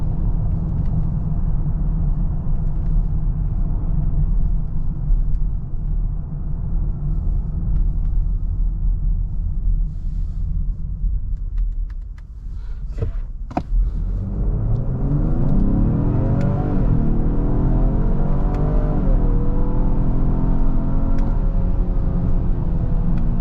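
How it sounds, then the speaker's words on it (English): A 2023 Lincoln Aviator Black Label pulling hard from 0 to 60, a loud engine rumble that briefly drops, then climbs in rising sweeps through the gears, close and without talk. "Do a quick little 0 to 60."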